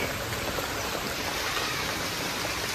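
Rainwater runs in a small stream on a rainy day, a steady close rushing and gurgling wash of water with no break.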